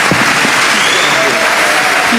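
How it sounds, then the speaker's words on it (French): An audience at a pan-African political talk in Togo applauds loudly for Marcus Mosiah Garvey, a dense, continuous wash of clapping filling the room, with voices mixed in underneath. "je vous demande d'applaudir fortement s'il vous plaît"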